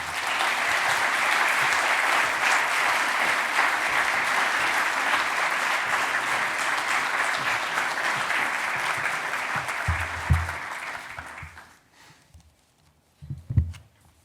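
An auditorium audience applauds to welcome Rabbi Meir Soloveichik at a King's College evening on religious freedom, dense sustained clapping for about eleven seconds that fades out, followed by a few footsteps and soft thumps near the microphone.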